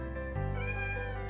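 A pet cat meowing close by indoors, one drawn-out, clear meow lasting about a second, alone with no talking.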